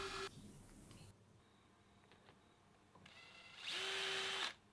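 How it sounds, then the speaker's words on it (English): A power drill bores holes into a metal spindle for a precision gearbox, with two bursts of whining drill noise separated by quieter workshop pauses and small clicks, the second burst louder and brighter, close up. "I transferred the 6 inner holes to the spindle, then drilled and tapped them M3"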